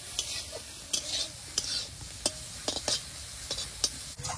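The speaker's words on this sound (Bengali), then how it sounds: "চিংড়ি মাছটা তেলে দিয়ে দেবো, সামান্য একটু হলুদ দিয়ে দেবো" Dried shrimp fry in hot oil with a pinch of turmeric and salt, giving a soft, steady sizzle broken by a series of sharp scrapes and clinks as a utensil stirs the pan.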